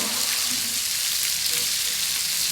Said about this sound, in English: Going to get in the last bit of the French fries, making sure to splatter away from me.